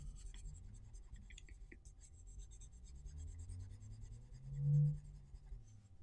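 Burnt sienna colored pencil shading on paper with heavier pressure, a soft continuous scratchy rubbing that stays quiet and close throughout, with a brief low thump near the end.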